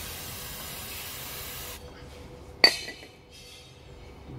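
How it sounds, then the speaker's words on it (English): Brake cleaner sprays onto the disc of an Alfa Romeo 156 in a close, hissing burst that cuts off, followed by a sharp metallic clink and a brief, fainter second spray. "next job is some brake cleaner and clean the front and back face of the disc."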